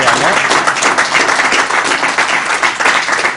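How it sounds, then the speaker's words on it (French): Loud, close applause for a visiting combat sports dojo team on a French sports show, dense clapping sustained steadily throughout with faint crowd murmur beneath. "là on pourrait les applaudir, ils pourraient s'applaudir"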